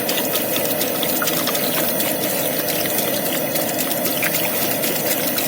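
Apple cider vinegar pours into a large container of water and other vinegars for mint sauce: a continuous splashing, gurgling stream, close and loud, steady throughout.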